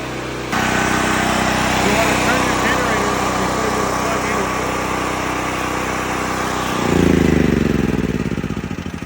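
A portable generator engine runs steadily and loudly, then shuts down near the end, leaving a brief winding-down rattle.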